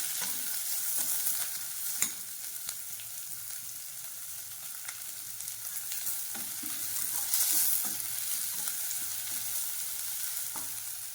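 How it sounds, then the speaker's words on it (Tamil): Onions frying and being stirred in a pan for a chicken fry dish, a steady close sizzle with scattered scraping clicks of the spoon throughout, no talking. "அடுத்து இதில் வெங்காயம் சேர்த்துக்கிறேன். சேர்த்துட்டு எல்லாத்தையும் நல்லா வதக்கி பண்ணிப்போம்."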